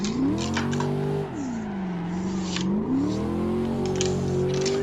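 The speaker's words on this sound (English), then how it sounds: "I like the torque of the engine, the sound they use for it's good." A Chevrolet Corvette C6 coupe engine in a racing video game drones steadily, rising and falling in pitch as it revs through gears, loud and continuous with faint clicking underneath.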